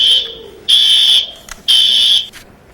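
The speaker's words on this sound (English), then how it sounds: "A fire alarm was set off late Tuesday night in one of CSU's dormitories." Fire alarm going off in a Colorado State University dormitory at night: two long, loud electronic tone blasts separated by short gaps, each followed by brief clicks, with no voices.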